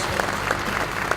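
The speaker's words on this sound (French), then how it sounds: "On peut l'applaudir, merci Raphaël" Colleagues at a workplace safety day event give a short round of applause for a presenter, a dense, steady patter of many hands.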